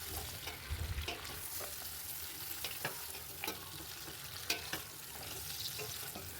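Mutton trotters fry with onions and spices in a pot, a steady soft sizzle beneath scattered scraping and clinking stirring strokes, close by and with no voices.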